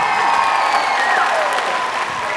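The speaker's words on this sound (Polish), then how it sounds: "jeszcze raz brawa dla uczestników naszych wspaniałych" Loud, sustained applause rises from a concert audience at a gala concert finale, a dense wash of clapping from many hands, with a faint tonal note lingering underneath.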